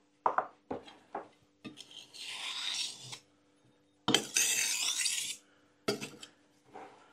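Knife blade drawn through a cheap Temu pull-through sharpener, giving several short rasping scrapes followed by two longer grinding strokes, close and fairly quiet, with brief pauses between passes and no talking.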